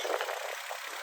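Mazda Xedos 6 24-valve V6 engine idling under the open bonnet, a steady, quiet, even hum heard close up and continuous throughout.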